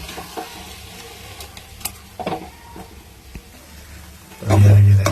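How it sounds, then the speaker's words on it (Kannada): Egg and drumstick leaf stir-fry being stirred in a pan, with soft scraping and intermittent light sizzling, growing louder and busier near the end. "ಎಲ್ಲ ಚೆನ್ನಾಗಿ ಮಿಕ್ಸ್ ಮಾಡಿ ಬೇಯಿಸಿ"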